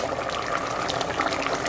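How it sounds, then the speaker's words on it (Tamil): Cooked lentils poured into a simmering pot of sambar with half-cooked drumsticks, a steady close wet splashing and bubbling gush that continues without break, no voices heard. "இப்போ நம்ம வந்து பருப்பு சேர்க்க போகிறோம்."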